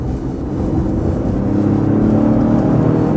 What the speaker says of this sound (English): put a little bit of gas into it